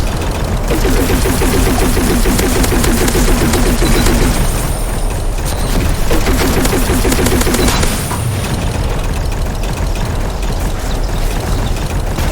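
Rapid automatic gunfire rattles in two long bursts amid a dense, constant roar of battle noise and rumbling explosions in the video game Assault Bots.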